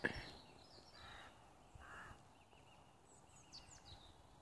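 Faint bird calls chirp in the distance over a quiet outdoor hush, a few short high notes scattered across the clip.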